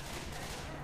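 Dense gunfire in the video game Left 4 Dead 2 rattles as one brief, continuous burst of rapid shots.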